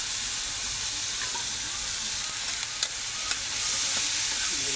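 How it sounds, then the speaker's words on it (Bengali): Potatoes and green chillies fry in a pan with a loud, steady sizzle and hiss close by. A few faint clinks of stirring rise above it, and no one talks. "এগুলো আমরা এখন ভেজে নেব।"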